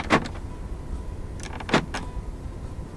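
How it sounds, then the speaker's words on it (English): Central locking on a 2008 Porsche Cayenne GTS: two short mechanical clunks of the lock actuators about a second and a half apart, heard close inside the car against a low background hum. "Electronic central locking."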